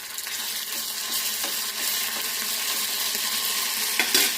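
Ginger garlic paste frying in oil gives a steady, fairly quiet sizzle with faint intermittent stirring clicks, close up and without any voices, a slightly sharper scrape near the end.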